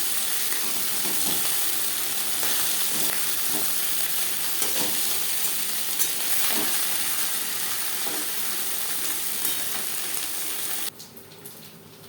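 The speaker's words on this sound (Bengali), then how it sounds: "একটা সাইজ ভাজা হয়ে গেলে অপর সাইজটা উল্টে দেবে" Tangra fish sizzling in hot oil, a continuous close crackle and hiss with scattered spits, cutting off abruptly near the end to a quieter background.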